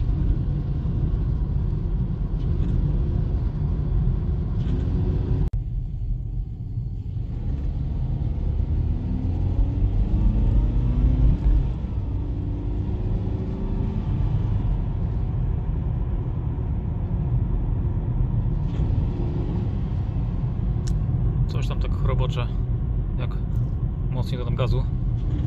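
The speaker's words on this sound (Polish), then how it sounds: "dalej tak rzęzi, też jak mocniej dodam gazu, tak jakby coś tam zachrobotało" A BMW petrol engine rattles and grinds unevenly after piezo injector replacement, a low, steady rumble with rough, scraping harshness. Someone talks over it throughout.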